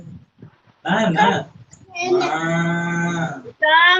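Children in a kindergarten class imitate a cow's moo, with drawn-out voiced lowing sounds following a brief spoken word, then a second shorter moo at the end, close and fairly loud.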